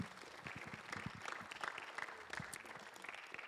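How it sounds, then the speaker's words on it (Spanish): Applause from a church congregation during a Spanish-English Resurrection sermon, moderately loud and steady with scattered claps, a voice faintly in the background. "Give an applause to the Lord."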